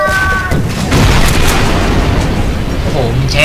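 Repeated booming explosions in Garry's Mod during a co-op map battle, loud and rumbling with dense low-end blasts running throughout, while players talk over them.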